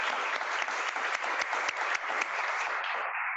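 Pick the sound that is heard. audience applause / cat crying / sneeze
audience applause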